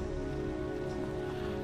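Rain falls in the video game Heavy Rain, a steady, dense patter and hiss of drops on surfaces, soft and unbroken throughout with no voices.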